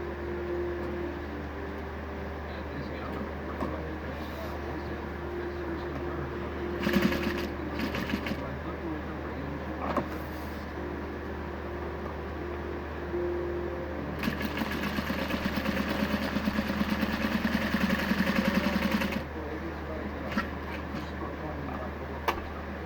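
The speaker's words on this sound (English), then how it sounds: "Do a box stitch here." A Juki 8700H industrial sewing machine sews a box stitch on a shoulder pad, a low motor hum with short stitching bursts, the longest near the end, over steady background machine noise.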